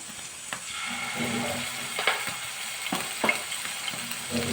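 Ginger-garlic paste sizzling in oil, a steady sizzle with crackling pops and a few stirring scrapes, close up, no voices.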